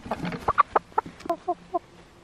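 A farm chicken in North Idaho gives a run of about eight short, clear clucks close by, evenly spaced over a couple of seconds.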